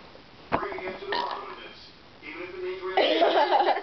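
Girls in a burping contest belch after chugging half a can of Diet Coke: a sharp burst, a longer drawn-out burp, then another extended rumbling belch near the end, close and fairly loud.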